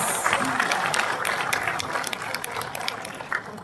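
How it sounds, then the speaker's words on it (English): Applause rises from delegates at a tourism conference opening ceremony in the Philippines, a moderate spread of clapping from a seated crowd that stays fairly even and slightly distant. "please give yourselves a round of applause."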